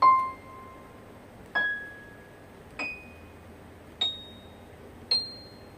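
Five clear, high-pitched tones ring out one at a time, each struck sharply and fading, each step higher than the last, with quiet gaps between.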